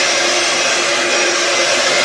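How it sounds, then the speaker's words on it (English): A heat gun blows in a loud, steady, unbroken rush of air as it dries screen-printed ink on a shirt, close and constant throughout. "I'm going to use a heat gun here"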